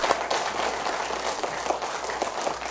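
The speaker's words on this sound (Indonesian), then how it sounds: "Kita tepuk tangan untuk SMP 29." An audience at an SMP 29 school event in Palembang claps together, a steady, moderately loud patter of many hands lasting a few seconds.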